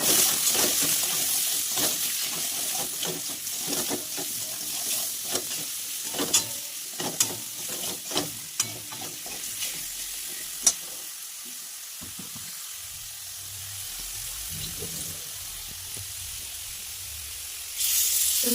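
Fish sizzles in oil with turmeric and salt while a spatula stirs and scrapes in a rapid run of sharp clicks. The frying thins toward the end, leaving a quieter hiss before a final swell, with no talking.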